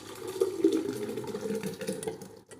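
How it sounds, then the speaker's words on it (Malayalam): Blended watermelon juice for a mojito is poured from one jar into another, giving a close, steady liquid splashing that trails off at the end. "വേറെ ഒരു ജാറിലേക്ക് ഒഴിക്കുക."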